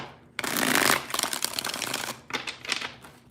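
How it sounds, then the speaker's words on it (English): A deck of playing cards being shuffled up close, a long riffling burst followed by two shorter flurries, with no voices. "Two more shuffles here, two more."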